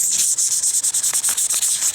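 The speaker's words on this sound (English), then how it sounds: "I'm just going to use some simple sandpaper and rough it up" Sandpaper rubs back and forth over the surface of a surplus AK-47 magazine in quick, rhythmic hissing strokes, close and loud, with no talking.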